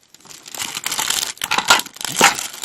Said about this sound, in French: j'ai le papier qui fait du bruit à côté